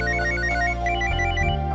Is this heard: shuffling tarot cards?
no